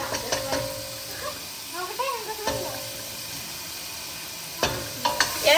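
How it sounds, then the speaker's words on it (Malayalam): Ground ginger, green chili and garlic paste hit a hot pan and sizzle steadily, with a few stirring scrapes and clinks through the clip while a voice talks intermittently over the cooking. "ഇതിലേക്ക് എന്ത് ഇഞ്ചി പച്ചമുളക് വെളുത്തുള്ളി എല്ലാം അരച്ചത് ഇത് ഇട്ട് കൊടുക്കുന്ന"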